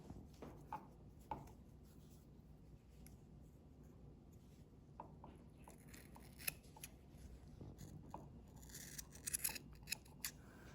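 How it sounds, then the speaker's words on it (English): Scissors cutting through a knitted cardigan during steeking, a steady run of soft crunching snips close by at low volume, with light rustling of fabric. "we're going to cut right in the middle of the V"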